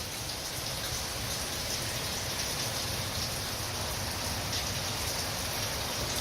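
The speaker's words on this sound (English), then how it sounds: "It's raining." Steady hurricane rain falling and pattering on surfaces, a dense even hiss that holds constant from start to finish with no voices.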